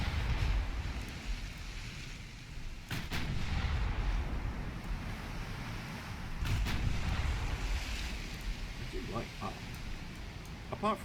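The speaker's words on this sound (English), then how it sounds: "Okay, so it's using 8-inch guns, a classic heavy cruiser weapon." Heavy cruiser 8-inch naval guns firing during a sea battle in the video game Ultimate Admiral Dreadnoughts, with a few booming shots over a steady rumble of wind and waves while someone talks throughout.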